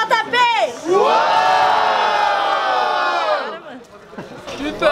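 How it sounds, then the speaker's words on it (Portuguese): A live crowd at a rap battle erupts in a loud sustained roar of cheering and shouting for an MC, swelling for a few seconds before fading back as a voice calls out over it. "Por ordem de rimas, gritem alto pro MC só!"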